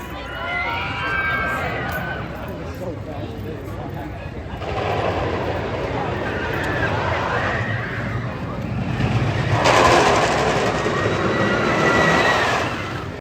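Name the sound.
El Toro roller coaster ride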